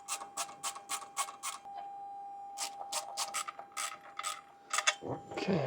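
A torque wrench tightens the clamps on an emergency escape slide bottle, giving close, crisp ratcheting clicks in two quick runs separated by a pause, with a faint steady whine behind and a louder shuffle at the end.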